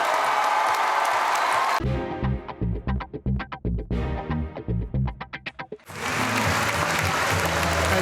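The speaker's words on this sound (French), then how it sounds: "Un tonnerre d'applaudissements pour Francesca Comencini" Festival audience applause for Italian filmmaker Francesca Comencini at Cinémed: dense, loud clapping at first, thinning into distinct individual claps in the middle, then swelling again into full applause.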